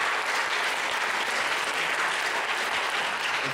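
Steady, dense audience applause fills a concert hall after children's performances, loud and continuous without pause.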